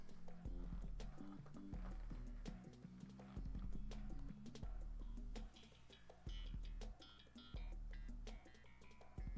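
A horse gallops in the video game Fall Guys, its clip-clop hoofbeats repeating in bursts over busy game music and effects, fairly quiet overall.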